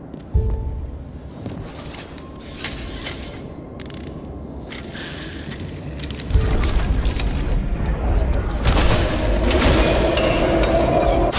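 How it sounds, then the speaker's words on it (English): Heavy fallen chandelier being lifted in the detective game Nobody Wants To Die, a muffled metallic clank and creak followed by a deep rumbling boom and sustained grinding, mechanical rattle over a loud low hum. "Maybe I can lift the chandelier."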